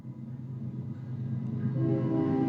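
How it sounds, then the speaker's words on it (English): A train rolls past beside a broadcast studio, a steady low rumble that swells louder toward the end, with faint tonal horn-like bands emerging in the final second. "I'm pausing to let the train roll by next to the studios here."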